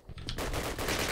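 Gunfire in the Call of Duty video game, a rapid burst of automatic shots cracking in quick succession, loud and close, with no talking.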